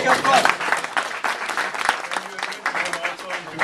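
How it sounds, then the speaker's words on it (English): An audience at an alumni networking event claps in steady applause that continues throughout, close and fairly loud, with a voice heard briefly over it. "Please give him a big applause."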